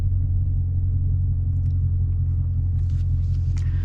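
A 2020 Dodge Challenger Scat Pack Widebody during a 0-60 acceleration run, a loud continuous low engine rumble heard from inside the car, steady and heavy with faint rattles near the end.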